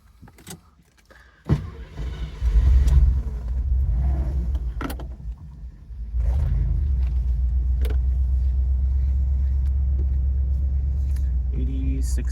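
A 1976 Mercedes 450SL convertible with a 4.5-liter engine and automatic transmission sets off with a door thump and jangle before a steady, close engine rumble settles in and runs to the end, with brief sharp clicks.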